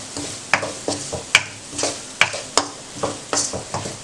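Spinach egg curry base frying lightly in a pan: a steady sizzle, with close, sharp scrapes and knocks of a spoon stirring against the pan at irregular intervals.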